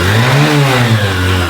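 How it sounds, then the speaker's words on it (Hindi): Honda SP 125 motorcycle with a new engine running loud and close, its revs rising and falling steadily over a strong low drone with no one talking. "बाइक को हम फटाफट से यहाँ पे करते हैं स्टार्ट।"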